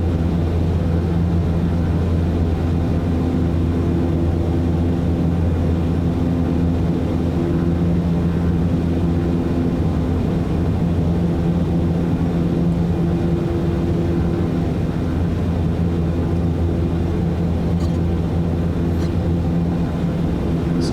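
A Black Square Starship turboprop aircraft taxis in Microsoft Flight Simulator 2024, giving a steady, loud droning engine hum that holds unchanged for the whole stretch.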